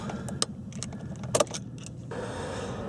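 Switching on the ignition of a VW e-Golf electric car with a 36 kWh battery: keys jingle and sharp clicks sound close by, then a soft, steady whir rises.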